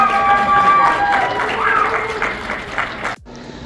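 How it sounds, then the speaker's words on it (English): A convention crowd applauding cosplayers at a Roswell event, dense clapping and cheering close by for about three seconds before cutting off abruptly. "Another big round of applause for all of our cosplayers."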